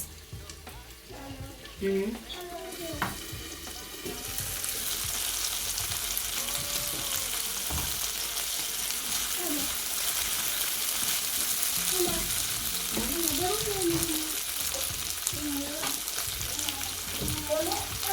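Green peas added to carrots and onions frying in a pan, with a steady loud sizzle close by that swells after a few seconds, plus clinks and scrapes of stirring.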